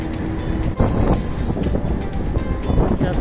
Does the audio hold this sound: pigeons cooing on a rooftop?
no